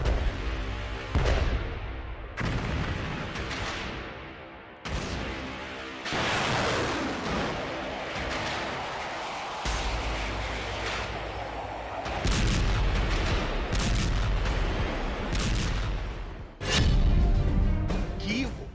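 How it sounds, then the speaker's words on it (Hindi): Explosions from Russian air strikes on Ukraine in news footage: a run of loud, heavy booms and blasts, several sharp onsets with rumbling tails and crackling debris, filling the clip with a strong burst near the end. "पिछले 24 घंटे में रूस के वो हवाई हमले देखिए जिसने यूक्रेन के होश उड़ाकर रख दिए हैं"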